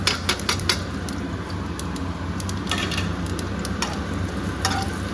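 Cumin, dried chili and cardamom sizzle in hot oil as a tempering for a fish-head muri ghonto, with a steady close frying hiss and sharp crackles and clicks from stirring.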